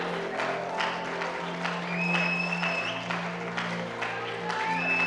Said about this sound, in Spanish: recíbalo con gran ovación